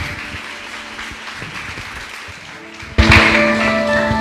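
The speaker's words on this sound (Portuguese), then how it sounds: "Dá aquela linda salva de palmas para Jesus." Church congregation applauding during a sermon on family crises, a soft murmur of clapping that suddenly swells louder and denser near the end, with no talk over it.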